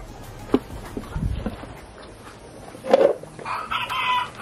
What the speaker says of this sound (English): Chickens are coming to play with him.